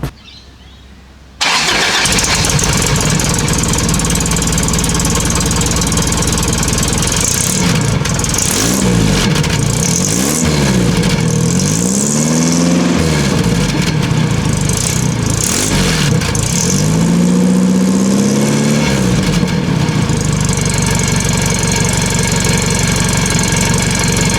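A worn-out old project car's engine cranks and catches, then idles loudly before being revved several times, the pitch rising and falling in long sweeps.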